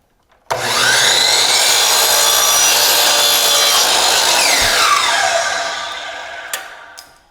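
A power saw cuts a 45-degree miter through wooden window casing, one loud continuous whine of blade in wood for several seconds before spinning down, followed by a couple of small knocks.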